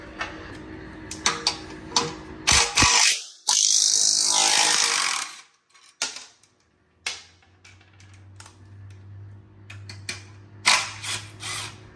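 A ratchet wrench works on the exhaust bolts of a 2023 Yamaha R1M during a titanium exhaust install. Close, sharp bursts of rapid clicking alternate with pauses and a brief clatter of tools, and a low hum follows.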